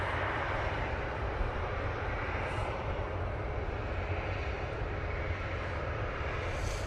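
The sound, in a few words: KLM Boeing 737-800 airliner departing for Amsterdam Schiphol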